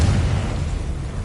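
A Confringo blast spell explodes in Hogwarts Legacy, a loud, dense, roaring burst that fills the whole short moment without any pause.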